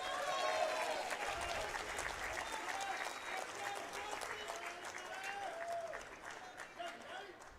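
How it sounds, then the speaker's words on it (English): A crowd at a submission-only grappling match at the SUBVERSIV XI grand championship breaks into sustained applause for both competitors, a dense, steady wash of clapping that slowly thins toward the end. "let me hear a nice round of applause for both these competitors"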